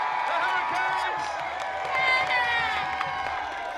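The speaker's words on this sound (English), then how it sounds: "Cheers erupted when the team finally emerged, proudly showing off their trophy." A crowd cheers and claps for the 2016 Super Rugby champions, the Hurricanes, as the team emerges with the trophy; the dense roar and whoops are sustained throughout and mixed with voices.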